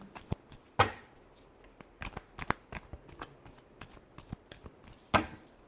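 Tarot cards are shuffled and handled close by, with soft riffling and several sharper snaps and taps spread across the moment, fairly quiet overall.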